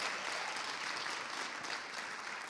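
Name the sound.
audience clapping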